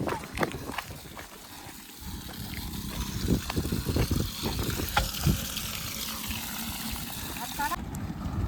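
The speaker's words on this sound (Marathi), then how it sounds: "स्पीडला आहे रे एकदम पाणी आहे" Irrigation water rushes fast into a field in the evening, making a broad, continuous splashing gush while people talk nearby.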